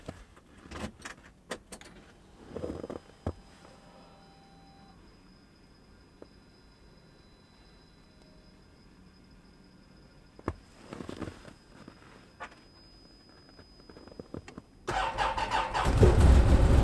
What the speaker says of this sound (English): we're going to see how the Can Am does on its first relatively cold start